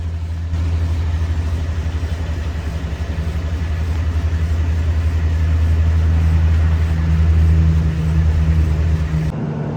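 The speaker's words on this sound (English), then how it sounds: "you might be able to hear that wheel bearing, that wheel hub assembly making noise back there in that rear corner" A Subaru Outback on the road with a noisy rear wheel bearing in the hub assembly produces a loud, steady low rumbling drone that swells slightly midway and holds until an abrupt cutoff.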